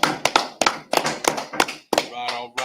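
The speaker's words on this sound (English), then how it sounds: "Clap, clap, clap it up." Congregation clapping hands at a Sabbath service, a run of sharp, loud claps in an uneven rhythm with brief pauses, voices mixed in near the end.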